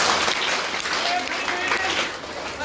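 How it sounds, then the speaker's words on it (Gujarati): Applause from a school audience during a science quiz for a National Science Day celebration, a steady dense clatter of clapping lasting the whole moment with voices mixed in. "તાળીઓ પાડો."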